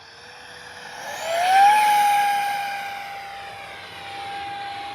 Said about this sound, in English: I'm bringing that one direct at me flybys.